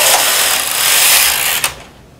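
A knitting machine carriage slides across the bed knitting a full row from right to left, giving a steady mechanical rasping whir that stops abruptly with a click near the end, then falls quiet.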